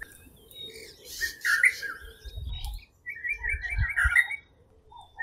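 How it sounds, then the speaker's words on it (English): A bird sings in the savannah at dawn in two bursts of bright chirping and warbling phrases, with a low rumbling background beneath and brief quiet gaps between the calls. "Let your focus drift to this bird in particular."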